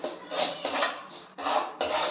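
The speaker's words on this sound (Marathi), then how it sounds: "रवा सारखा हलवत राहायचा." Dry semolina (rava) roasting in a pan and being stirred, a scraping, rubbing texture in repeated close strokes with brief pauses between them, no voices.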